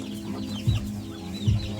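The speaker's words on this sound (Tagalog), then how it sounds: "may nangingitlog pa rin na pabo" Turkeys cluck and chatter in a busy farmyard, with two low, soft thumping clucks standing out amid continuous bird calls nearby.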